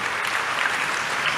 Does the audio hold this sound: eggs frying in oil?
no